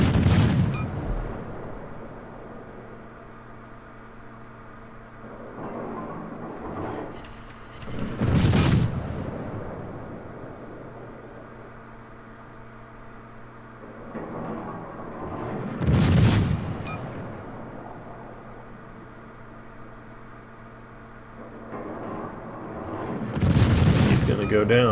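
Naval guns of a German Tier-8 Mainz cruiser in World of Warships fire in heavy booming salvos roughly every eight seconds, loud blasts over a steady engine-like rumble, with someone talking between shots.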